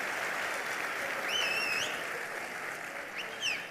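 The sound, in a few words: audience applause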